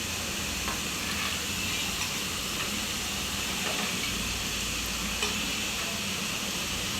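Sprouted legumes being stirred into a vegetable biryani pot, with a steady bed of sizzling and scraping filling the whole stretch, no voices.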